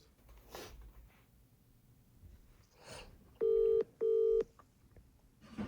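Two loud, clean touch-tone beeps of a phone being dialed for a call, each about half a second with a short gap between, rising above quiet background noise.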